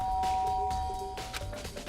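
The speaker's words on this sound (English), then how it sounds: "I pressed the doorbell." A doorbell chimes in the Danganronpa Trigger Happy Havoc video game, a clear electronic ding-dong with sustained tones that fade over about two seconds, heard alone without talk.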